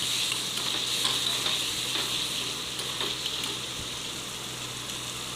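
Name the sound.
onions and spice paste frying and being stirred in a pan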